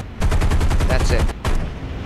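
Aircraft machine-gun fire in War Thunder, a loud, fast rattling burst of about a dozen evenly spaced shots, a brief pause, then a short second burst, over the hum of a plane engine.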